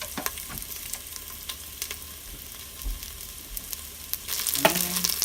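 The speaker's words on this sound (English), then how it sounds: "I'll just stir it every once in a while, just for a minute." Ramen broth ingredients stirred inside an Instant Pot Lux, a soft steady sizzle with scattered light scrapes, turning into louder bubbling and frying near the end.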